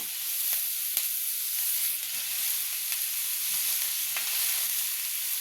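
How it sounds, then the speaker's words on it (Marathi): Shredded cabbage hitting a hot pan and frying, a steady bright sizzle that holds evenly throughout with a few faint clicks of a spoon, no talking. "आता आपण कोबी घालूया।"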